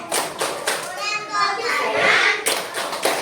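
A group of teachers in a classroom session performs the 'tepuk keren' clapping routine, with sharp rhythmic claps separated by chanted and spoken voices, the beats recurring in short bursts.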